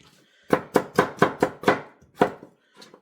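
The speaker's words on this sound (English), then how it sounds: "So I'm just gonna continue chopping like this." A knife chops a carrot on a cutting board in crisp, quick strokes: six sharp knocks in a steady rhythm, a short pause, one more chop, then a couple of faint taps, close and clear with no talking.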